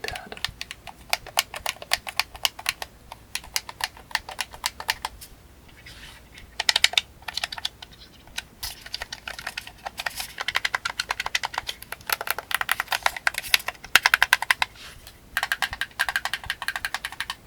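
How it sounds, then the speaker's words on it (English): The D-pad of a Google Stadia controller clicks rapidly and repeatedly in close, crisp bursts of plastic taps, with brief pauses between flurries. "Clicky D-pad."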